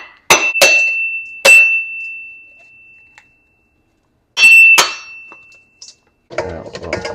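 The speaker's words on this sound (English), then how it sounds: "So now I'm going to break the coconut." A coconut is struck hard about five times, each blow a sharp metallic clang with a short ringing tail, in two bursts separated by a pause, then a brief rough cracking rustle.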